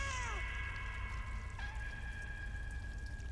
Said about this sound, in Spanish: No, no, el maullido. El maullido de sufrimiento.